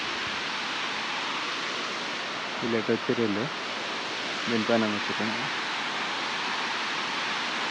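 A Nuthankal waterfall running with low flow after the rains eased, giving off a steady, even rush of falling water throughout, with two short bursts of nearby talk over it.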